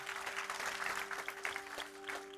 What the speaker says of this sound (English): Give the Lord a hand clap, please, as you rise to your feet